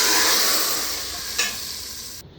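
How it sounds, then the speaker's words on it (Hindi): Hot oil hisses and sizzles steadily at close range as tempering spices hit the pan for dal, with a brief stirring scrape before it cuts off. "इसके अंदर मैं तड़का लगा दूँगी।"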